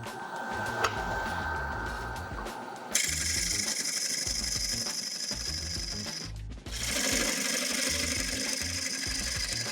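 Wood lathe spinning a cracked, bug-infested log while a 16 mm bowl gouge cuts a tenon, a continuous close hum of the motor under a harsh scraping and hissing cut that shifts in tone partway through.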